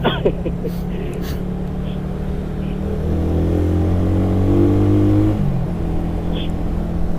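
A motorcycle engine running steadily during a ride, a low continuous drone that rises slightly in pitch midway, close and fairly loud with faint voices over it.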